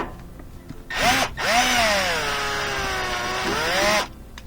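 A power driver spins out a Torx 15 screw from the top panel of a Whirlpool washer, giving a short whir, a brief pause, then a longer rising and falling whine that stops abruptly, close and loud.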